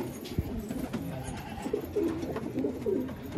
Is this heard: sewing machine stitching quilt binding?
no